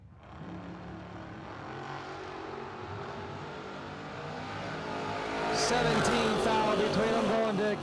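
Two drag racing cars, a 1963 Chevy Nova and a 1969 Pontiac Firebird, at a Christmas bracket race, engines roaring and building in volume toward a loud peak, with an announcer talking over them.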